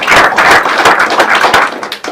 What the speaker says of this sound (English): yes, please give him a round of applause